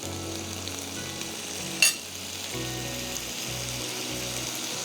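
Chicken and vegetables frying in a pan on a stove, a faint steady sizzle with one sharp clatter partway through, no talk.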